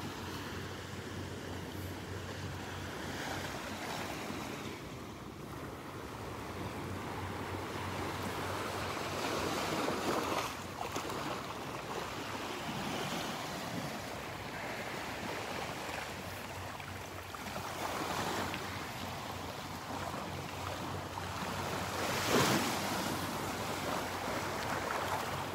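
Ocean waves wash steadily onto the beach at Delnor-Wiggins Pass State Park in North Naples, Florida, a continuous surf roar with wind noise and occasional louder breaking surges.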